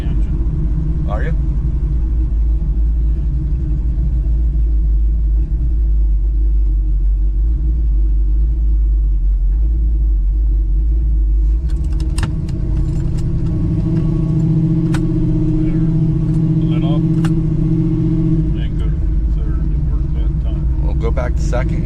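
A 1970 Chevrolet Nova with a built 383 engine rumbles loudly and steadily while driving, a heavy low drone throughout, with people talking over it.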